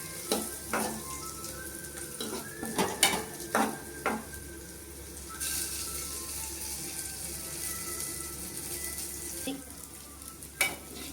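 Aromatics sautéing in a pan until golden, with a soft steady sizzle under repeated sharp scrapes and clacks of a spoon stirring, the knocks coming in irregular bursts.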